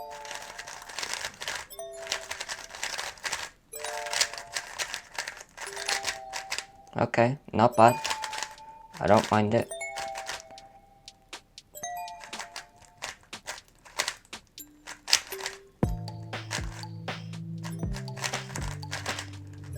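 A new glossy 3x3 speed cube being turned, giving bursts of sharp plastic clicks and rattling twists in quick irregular clusters close up, with a person talking briefly between turns.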